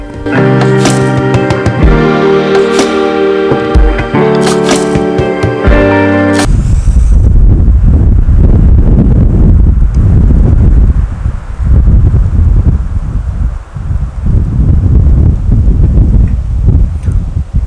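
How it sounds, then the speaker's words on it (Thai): A few seconds of music cut off, then strong wind at Huai Nam Dang near sunset buffets the microphone outdoors with a loud, continuous rumbling roar and gusty swells. "ลมแรงมากเลยครับ ขอบอก"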